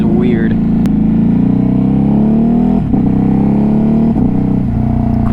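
A 2021 Ducati Hypermotard 950 RVE being ridden with a quick shifter, its loud engine revving steadily with brief dips at quick upshifts, close and constant.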